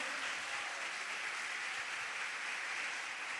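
Church congregation applauding during an evening worship service, a dense, steady wash of clapping from many hands filling the room without a break.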